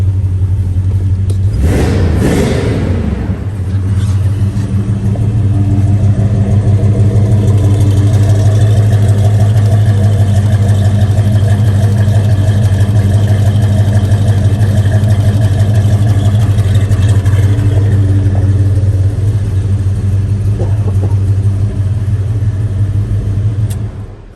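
Cold 1970 Pontiac GTO V8 idling before it has warmed up, a loud, steady low rumble close by, with a brief blip of revving near the start, then an even idle to the end.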